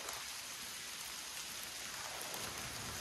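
Steady rain falls outdoors at a subarctic beekeeping site, an even, unbroken hiss of drops that continues throughout with no voices.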